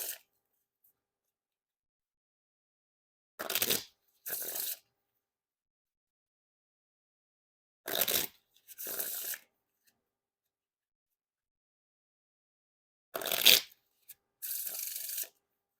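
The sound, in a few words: riffle shuffle of a deck of playing cards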